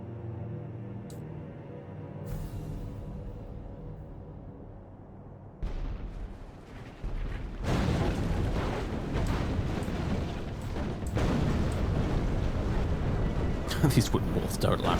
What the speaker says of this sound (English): These wooden walls don't last longer with cannons